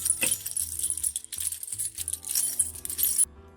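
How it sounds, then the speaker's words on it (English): A set of metal keys jangles close by in continuous bright clinking and rattling bursts, then stops abruptly. "here's a set of jangly keys."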